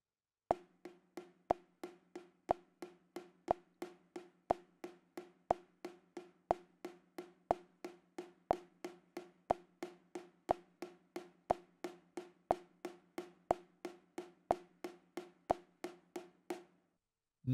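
Single drum strokes on a practice pad play a steady alternating right-left sticking pattern for jazz swing, about two dry taps per second at even volume and close up, with no accents, ending abruptly.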